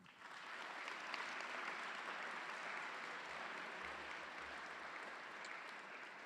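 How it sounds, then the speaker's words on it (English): Sustained applause from a large crowd at a school academic awards ceremony, steady dense clapping filling the room for several seconds without pause. "Give yourselves a good round of applause."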